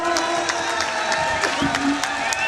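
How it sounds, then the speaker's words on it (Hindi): A crowd at a BJP political rally in Mahendragarh claps and cheers continuously under a loud speaker's amplified voice addressing the audience. "जरा तालियां बजाकर एक बार उनका अभिनंदन करिए, स्वागत करिए।"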